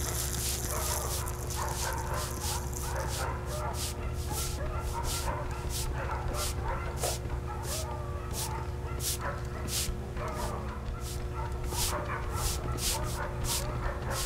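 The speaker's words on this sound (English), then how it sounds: "All these dogs do is bark and crap." Dogs in the Family Guy video game bark repeatedly in quick, regular yaps and yips over a steady droning game background, with some whimpering mixed in.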